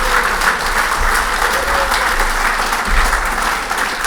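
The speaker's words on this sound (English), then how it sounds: "One last round of applause for them as well." Loud, dense applause from a crowd at a Hall of Fame induction night honouring two inductees, a steady wash of clapping filling the room without pause.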